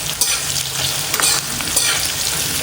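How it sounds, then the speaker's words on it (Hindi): Onions fry hard in a pan, a loud, dense, continuous sizzle close by, with brief scraping bursts from repeated stirring throughout. "और अभी मैं इधर प्याज भून रही हूँ"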